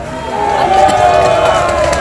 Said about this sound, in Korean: 저들에게도 큰 박수를 한번 보내주시기 바랍니다